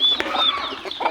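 Turkeys clucking and calling while being fed, close and fairly loud, with short repeated clucks and higher chirps over a farmyard background.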